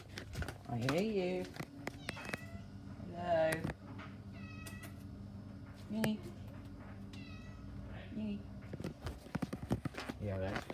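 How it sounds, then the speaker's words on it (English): A cat meows several times close by, in a room where a homemade 19-inch pedestal fan is running, with a person talking over and between the calls. "Yeah, that's a cat."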